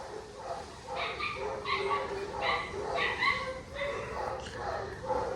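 Several puppies at an animal shelter yip, bark and whimper in quick, overlapping bursts, close by and fairly loud, with a person speaking among them.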